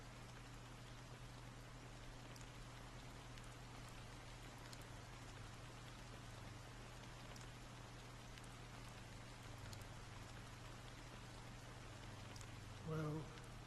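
Steady rain falls in the video game Honkai: Star Rail, an even, continuous hiss of drops on surfaces with a low hum beneath. A brief voice-like blip surfaces near the end.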